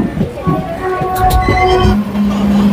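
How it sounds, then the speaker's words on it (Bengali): A passenger train pulling into Bandel Junction in West Bengal, heard from on board: loud, close rumbling and rattling of the carriages, with high wheel squeal tones and a steady low hum as it slows. "আমাদের ট্রেন ঢুকছে ব্যান্ডেল জাংশনে।"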